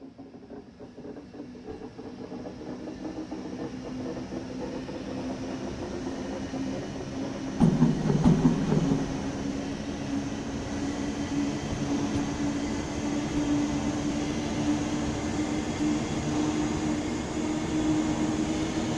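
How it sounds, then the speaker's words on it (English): An RBB 1020 electric locomotive, first built in 1940, hauls a train on the Mittenwaldbahn in Train Sim World 5, giving a steady low rolling rumble with a brief louder surge partway through and no talk. "This train is hauled by an RBB 1020, first built in 1940. It is one of the oldest surviving electric locos."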